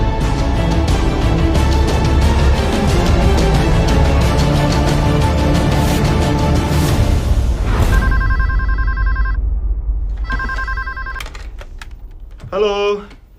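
Fast keyboard typing fills an office newsroom, then a telephone rings in two clear electronic bursts, followed by a short voice at the end.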